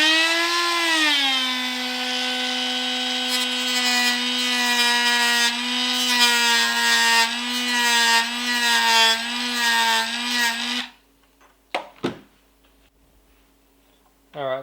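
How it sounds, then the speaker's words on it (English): A Dremel rotary tool cuts a small slot during an optical unit install in an MK DSG airsoft gun, a steady high whine that wavers in pitch for about eleven seconds before stopping, followed by a few brief clicks. "So I'm just going to do that with the Dremel. I'll just get a little Dremel cut just in there."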